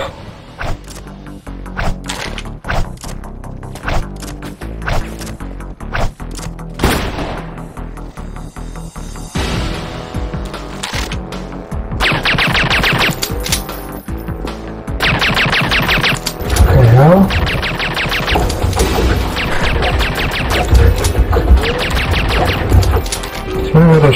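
Gunfire from the GoldenEye: Source video game on the Carrington Institute map, with dense bursts of sharp shots and impacts running through the match, mixed with music and game effects.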